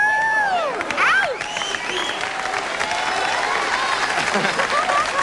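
Studio audience at a 1992 late-night talk show applauding in a steady, dense wash of clapping with some whoops, while a voice talks over it.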